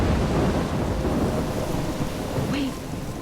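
Steady heavy rain and rolling thunder roar in a Life is Strange game storm, dense and unbroken throughout, with a faint whistling wind tone near the end.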